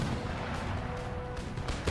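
Howitzer artillery thunders in a large battle in the strategy game Empire Total War, a dense, continuous wall of booming fire and rumbling blasts rolling on with no break.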